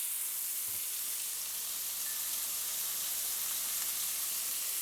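Onions hit a hot pan and set off a loud, even sizzle that hisses steadily throughout, with a brief stirring knock near the start and no talking.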